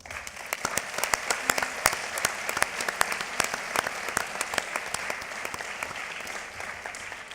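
Audience applause at a ceremony for sworn-in chartered accountants, dense sustained clapping from a hall crowd, moderately loud and steady for several seconds, no voices over it.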